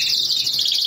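Songbirds from a breeder's line, Luengo's birds, chirp and sing in a steady high-pitched stream that runs alone for the whole second.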